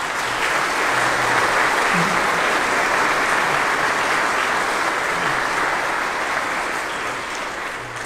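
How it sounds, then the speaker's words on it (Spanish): A church congregation at a Lenten Sunday Mass breaks into dense, steady applause from many hands, holding loud and even before easing slightly toward the close. "Un aplauso para todos"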